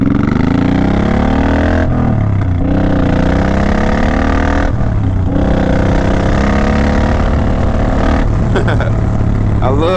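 A Suzuki Boulevard motorcycle engine revs under open throttle, a loud, close, rough drone rising and falling in several surges with brief dips between them.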